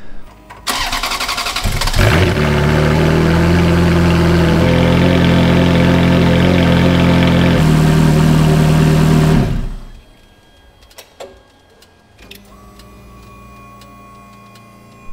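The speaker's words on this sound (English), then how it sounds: "I'm gonna turn on the engine and let it bleed a lot" A Ferrari F430 engine cranks and starts, then runs with a steady loud hum for several seconds while the E-Diff system is bled, before shutting off, followed by light clicks and ticks.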